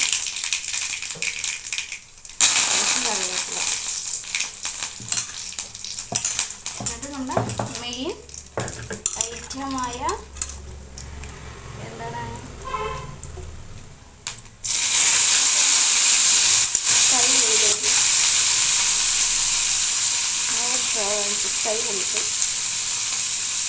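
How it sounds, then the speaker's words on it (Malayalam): Mustard seeds and dried chilies hit hot frying oil and sizzle loudly, with sharp popping and crackling that eases off, then a strong steady hiss returns midway; some soft background voices and stirring sounds are heard. "കടുക് ഇട്ട് കൊടുക്കാം കേട്ടോ ഉണക്കമുളക്"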